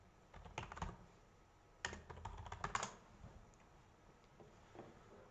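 Fingers type a search on a computer keyboard: two quiet clusters of quick keystrokes, followed by a few faint scattered taps.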